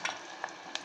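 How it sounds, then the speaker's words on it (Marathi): Curry leaves go into finely chopped onion frying in a pan, giving a soft sizzle with a few quick scraping clicks of stirring. "आता आपण त्यामध्ये घालणार आहोत कढीपत्ता।"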